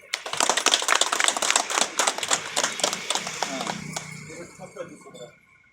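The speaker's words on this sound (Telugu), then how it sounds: "ఒకసారి క్లాప్ కొట్టండి అందరూ." Audience at a prize-giving event claps together once, a burst of dense sharp slaps that tapers off over a few seconds.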